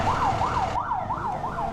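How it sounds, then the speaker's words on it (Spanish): An ambulance siren responding to a traffic accident wails in a steady rising-and-falling cycle, loud and close, repeating about five times over low road rumble with no talking. "Ambulancia."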